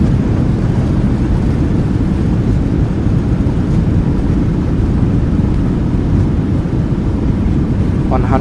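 Airliner engines roaring in reverse thrust during landing in a flight simulator game, a loud, steady low rumble filling the whole span.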